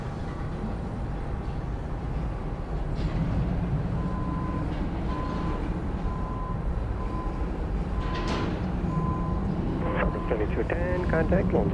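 An airplane taking off from Dallas Love Field Airport, a steady loud roar of engines throughout, with a faint repeating tone and scattered higher noises near the end.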